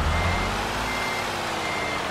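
A truck reverses to hook up a trailer in a trucking video game, with a loud, steady engine rumble and a continuous reversing tone, no talking over it.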